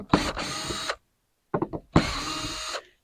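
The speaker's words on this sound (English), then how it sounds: "Then I'm gonna take a couple of these screws out." A power drill backing screws out of a truck topper shell, two close, loud whirring bursts separated by a short pause and a few brief trigger blips, no talking.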